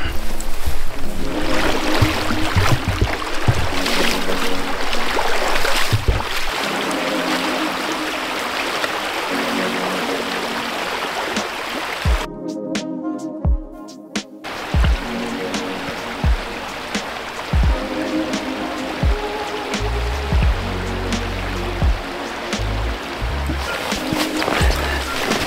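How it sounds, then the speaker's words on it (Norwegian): Fly angler wading across a river, water sloshing and splashing around the legs in continuous rushes with irregular heavier surges, close by, with a brief dropout partway through. "da vader jeg over der"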